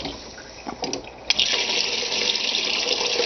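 Water pours steadily into a pan set up for clarifying fat, a broad hissing rush that starts after a few soft knocks and then runs on loud and continuous.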